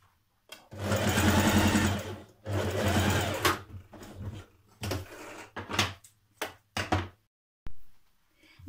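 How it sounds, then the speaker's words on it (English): A sewing machine stitches straight down a dress panel in several whirring bursts, two longer runs followed by shorter starts and stops, close and clear with no talking. "I'm just going to sew straight down to the middle."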